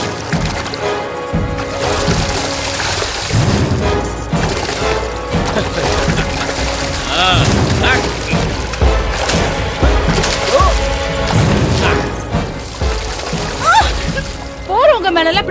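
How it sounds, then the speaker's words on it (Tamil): Water being poured and splashed onto passers-by during Holi festivities in a crowded neighbourhood; loud repeated splashes and sloshing bursts under agitated, overlapping voices and shouting. "போறவங்க மேல இப்படி தண்ணி ஊத்துறியே"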